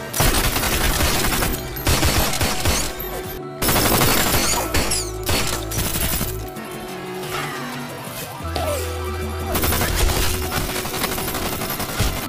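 Sustained machine gun fire in a violent shootout scene from the film Lucky Day, with rapid bursts of gunshots and crashes, loud and dense throughout with a brief pause midway.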